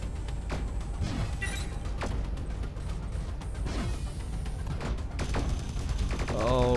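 Turrets in Sublevel Zero fire at close range in repeated sharp bursts, with thumps and mechanical whirs mixed into a busy game soundscape.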